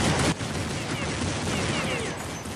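A continuous burst of Counter-Strike gunfire, loud, dense and rapid, with a strong crack at the start and unbroken shooting for the rest.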